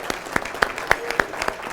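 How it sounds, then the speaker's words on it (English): A small audience clapping, a handful of sharp, widely spaced claps in a slow, regular rhythm, fairly close and distinct rather than a dense ovation. "So I wish you guys give her a round of applause"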